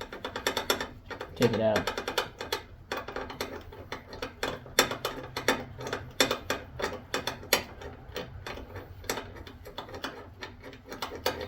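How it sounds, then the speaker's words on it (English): Ratchet and socket working a spark plug loose on a Kohler 7000 series 23–26 hp engine, giving steady rapid clicking over several seconds with brief talk at the start. "Take the socket off the ratchet and just put it on there."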